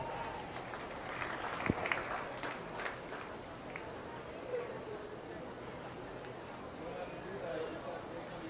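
Audience at a swine show giving a modest round of applause, scattered claps rising briefly and then thinning into murmur and background noise in a large livestock arena.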